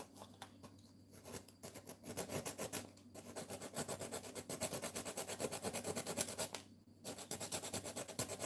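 Coarse 36-grit sandpaper is rubbed back and forth over a surface in steady rhythmic strokes, with a few short pauses between passes, close-up and fairly quiet, with no voices.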